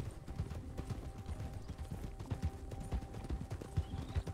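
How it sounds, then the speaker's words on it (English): Horse hooves clip-clop steadily in the RedM video game, an even walking rhythm of close thuds that continues throughout with no talk over it. "You and your geriatric horse."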